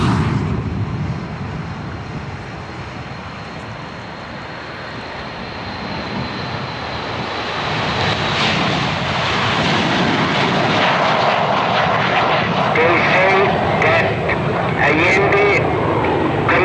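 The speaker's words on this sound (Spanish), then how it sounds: "pasaron aviones como pasaban en Vietnam, tirando bombas" Military airplanes passing overhead on a bombing run, a loud continuous broadband engine roar that swells and stays heavy throughout, with a faint voice beneath it.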